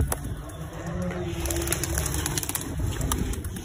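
Pigeons take flight with sharp bursts of wing flapping and clattering over a busy background, with some soft cooing-like calls, close and moderately loud.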